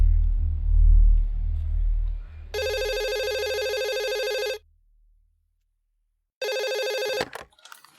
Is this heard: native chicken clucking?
no